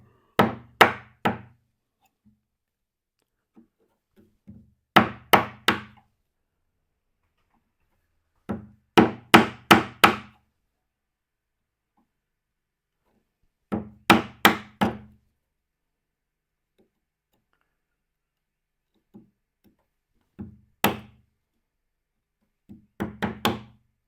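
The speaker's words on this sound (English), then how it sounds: "You can take that chisel." A chisel is struck with a mallet while cutting a wooden dovetail template: sharp wooden knocks come in tight bursts of three or four, repeated every few seconds with near silence in between, close and loud.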